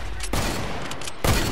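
Fortnite gunshots ring out as loud, booming blasts, one near the start and another just past the one-second mark, with the game's noisy sound underneath.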